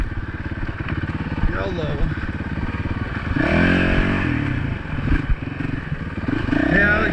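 Motorcycle on an off-road OHV trail in spring, its engine thrumming close with rises in revving and rattling clatter over rough ground, a voice speaking briefly over the riding.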